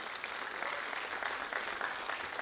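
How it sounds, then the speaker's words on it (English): Audience at a film festival opening ceremony applauding a guest, steady, dense clapping from a large crowd that fills the whole stretch with no talk over it. "Please give him a round of applause."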